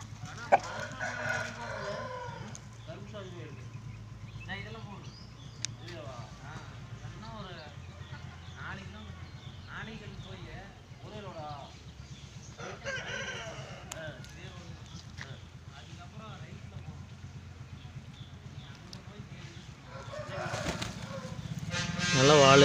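A peacock-type rooster (mayil seval) on a farm, crowing and clucking in repeated calls of varying loudness, with someone talking over the bird throughout.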